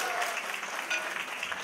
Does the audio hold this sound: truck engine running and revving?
no